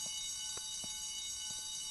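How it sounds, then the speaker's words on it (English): A jewelry store alarm in the Spider-Man 2 video game rings continuously as a steady high electronic tone, with a few soft knocks beneath it and no talking. "Guess I'd better check out that alarm."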